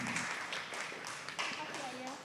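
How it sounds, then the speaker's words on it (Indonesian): An audience at a religious study gathering claps for Bunda Neneng, giving a soft, continuous patter of applause with a voice speaking over it near the end. "Tepuk tangan buat Bunda Neneng"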